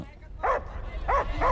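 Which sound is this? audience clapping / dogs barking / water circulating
dogs barking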